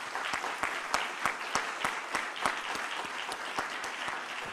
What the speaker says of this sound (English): I think our speakers deserve a big applause.